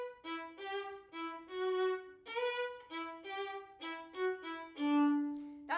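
Solo fiddle in Irish style plays a lively phrase of distinct bowed notes, with slides from a flattened pitch up into B, close and clean with no other sounds.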